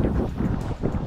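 Strong wind buffets the microphone outdoors, a loud, continuous low roar with gusty rumbling throughout.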